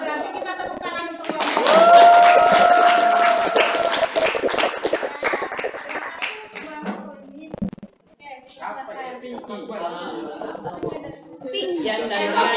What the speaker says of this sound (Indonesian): berarti kita tepuk tangan